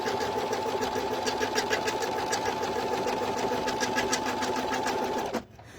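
An embroidery machine stitches placement stitches in a continuous fast, even whir with a steady rhythmic needle chatter, loud and close, stopping abruptly near the end.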